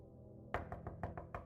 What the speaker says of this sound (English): he heard a knock at the door